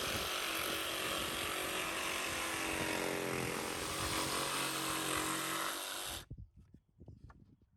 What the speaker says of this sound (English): get the jigsaw out, and make some cuts